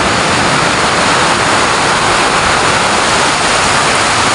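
A heavy afternoon downpour pours down in a dense, unbroken roar, loud and close, holding steady throughout with no voices.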